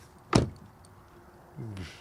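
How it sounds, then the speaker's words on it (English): A 2021 Toyota Mirai car door slams shut with a single solid thump, followed by a brief mechanical whir from the door or lock. "also with keyless entry and door closing sound"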